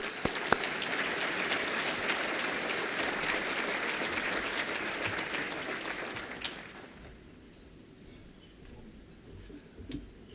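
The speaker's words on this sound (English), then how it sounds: "Let's give a round of applause" A crowd at a roundtable speaking event applauds loudly for several seconds, then the clapping fades away into a quiet room.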